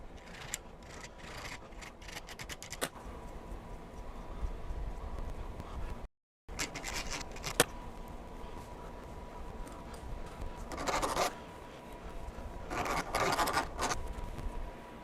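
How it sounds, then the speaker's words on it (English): A thread file works over damaged bolt threads with quiet repeated rasping strokes, faint and close, coming in uneven bursts with short pauses between them. "So that's what a thread file will do for you."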